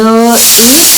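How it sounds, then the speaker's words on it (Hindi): A pressure cooker whistles loudly as vegetables cook, a strong steady tone that cuts off abruptly after about a third of a second into a hissing rush of steam, with a brief rising voice-like wail after it. "मेरे कुकर की सीटी बज रही है"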